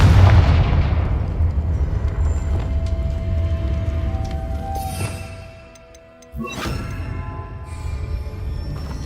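Repeated spell blasts from Confringo in the video game Hogwarts Legacy: a loud booming burst at the start, a low rumbling tail, then a second sharp crackling blast after a short lull, with no talking.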